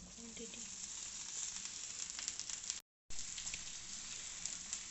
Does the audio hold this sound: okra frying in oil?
yes